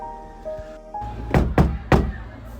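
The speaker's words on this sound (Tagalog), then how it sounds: "Teka, Mami, para may kumakatok." Three firm knocks on a door, evenly spaced and fairly close, following a quiet stretch with faint tones.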